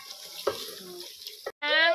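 Water pours from a tap while roti dough is being made, a short rushing stream near the end after some kitchen handling sounds.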